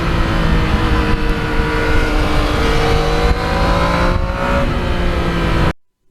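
A 2020 Yamaha MT-09 naked motorcycle on its stock muffler, a steady, fairly loud engine drone with shifting tones as it revs, ending in abrupt silence.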